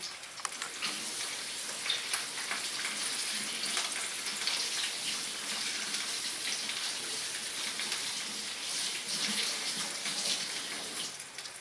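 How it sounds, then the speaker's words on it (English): Kitchen sink tap running steadily while hands are washed, a soft continuous splashing hiss with faint fluctuations, fairly quiet and without talk. "I'm going to wash my hands because that's all."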